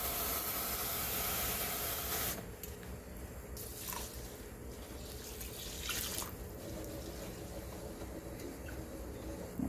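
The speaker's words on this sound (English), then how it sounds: "okay, so we add the 2 cups of water." Two cups of water pour into a pot of rice in a steady, close hiss that cuts off partway through, leaving quieter trickles, drips and sloshing in the pot.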